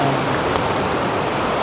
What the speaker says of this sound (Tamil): தண்ணியோட சவுண்டு கேட்கும்னு நினைக்கிறேன்.